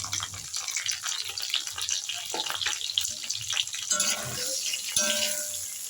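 Potato and tomato sizzling in mustard oil in a kadai with salt, turmeric and chili powder added, a continuous frying hiss with occasional stirring scrapes and clinks.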